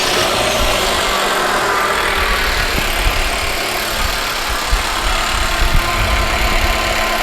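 A flood-damaged 2013 Hyundai Sonata engine, started by jumper wire under the hood, runs with a steady close idle drone and occasional small knocks and clicks, no speech.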